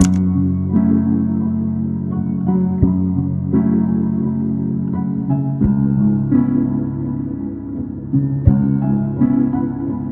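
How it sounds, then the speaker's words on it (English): Moody, dark piano chords ring out slowly with soft sustained low notes and occasional sharper attacks, playing alone without drums or voices. "You want to start off with some piano that sounds like this."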